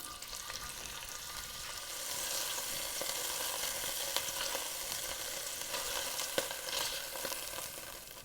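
Beef pieces sear in a hot pot for soup, filling the whole stretch with a loud, continuous sizzle and crackle. Small pops and spatters rise above it. No one speaks.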